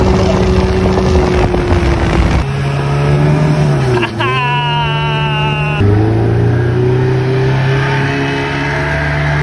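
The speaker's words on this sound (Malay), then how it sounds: "saya dengan Abang Ayim set up enjin yang berjenama Evin Root yang baru" A freshly serviced Evin Root outboard engine runs on a boat on the Sungai Muar river in Johor, loud and close with a steady droning hum that dips and shifts pitch as it revs, with wind buffeting the microphone.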